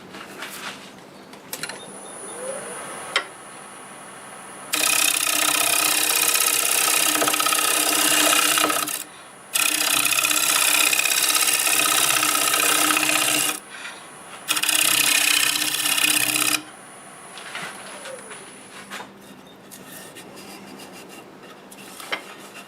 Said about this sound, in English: See if we can clean this up with a scraper.